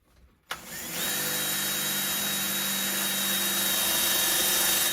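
After a click, a power drill spins up in reverse, grinding into a metal MagSafe phone case with a steady, loud whirring whine that holds to the end.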